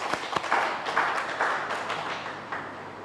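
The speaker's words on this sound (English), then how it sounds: "Give him a round of applause, please." Applause from an audience at an Emancipation celebration at the Old Mill, a steady wash of many hands clapping at moderate volume, with no talking over it.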